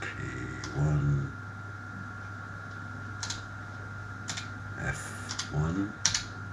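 Keys pressed on a BBC Master 8-bit microcomputer keyboard: scattered individual clicks and short bursts of key presses, moderately close, over a steady low hum, with a brief voice near the start.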